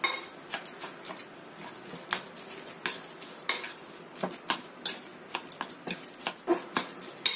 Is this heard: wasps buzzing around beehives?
no